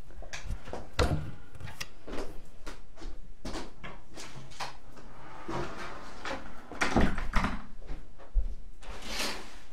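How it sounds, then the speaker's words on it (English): A door is shut indoors in a quiet room, a series of knocks, clunks and rattles spread over about ten seconds, close and moderately loud with no voices. "I'm just going to close my door because it's cool"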